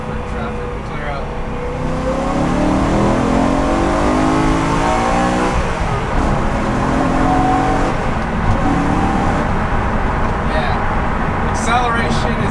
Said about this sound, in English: I'm going to do a second and third gear pull right now.